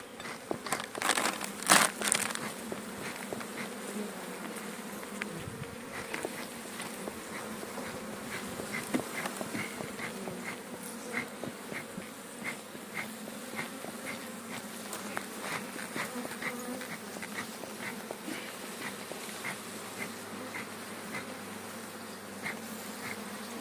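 Honeybees buzz steadily around open hives during an apiary inspection, a dense continuous drone close by, with brief crinkling handling noises near the start.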